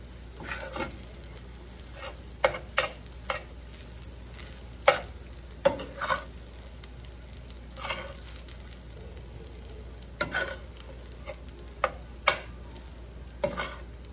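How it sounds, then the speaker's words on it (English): Rice stirred in a sizzling skillet for Texas red rice, with steady low frying hiss and repeated sharp scraping strokes of the spoon at irregular intervals, close and fairly loud, with no talking. "get this stirred in there just a little bit."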